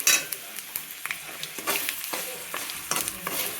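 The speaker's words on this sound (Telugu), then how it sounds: "దీంట్లో నిమ్మప్పు, ఉప్పు, పసుపు ఇది కూడా వేసేసుకొని కలుపుకుందాం" A spoon stirs lemon juice, salt and turmeric into a frying mixture in a pan, giving soft scraping strokes over a steady sizzle, close up and moderately quiet, with no voices.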